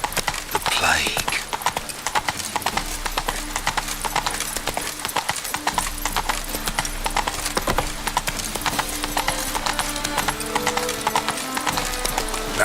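Geralt's horse Roach gallops in The Witcher 3, a steady rapid clip-clop of hooves running throughout with a brief whinny near the start, mixed with game music and occasional talk.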